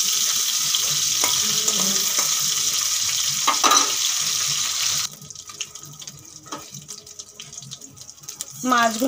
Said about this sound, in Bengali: নুন হলুদ মাখা মাছগুলো ভেজে নেব।